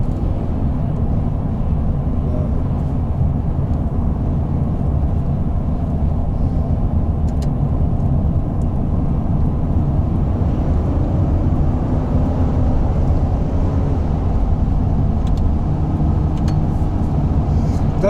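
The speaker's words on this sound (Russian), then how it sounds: "что там машина едет" A car travels along a rough road under construction, heard as a loud, steady low rumble of engine and road noise that continues throughout without clear peaks, with no voices.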